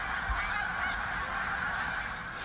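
Greater snow geese honk on a marsh at Assateague, a dense, continuous chorus of many birds calling together, loud and close with no talking.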